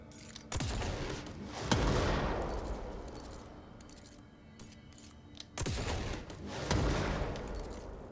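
A charged weapon in the video game Control fires like a rocket launcher, giving two sharp blasts each followed by a rolling explosive boom, moderately quiet overall.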